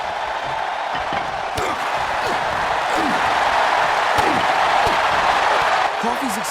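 A wrestling arena crowd in the WWE 2K24 video game, a steady roar of cheering and applause throughout, with a commentator talking over it.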